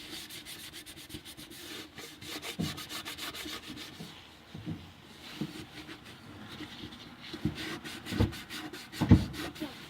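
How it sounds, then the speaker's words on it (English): Scrubbing rust spots off a stainless steel sink in an RV camper, a steady rasping rub with repeated back-and-forth strokes, close and moderately loud, with a few sharper scrapes toward the end. "I'm just going to scrub it out."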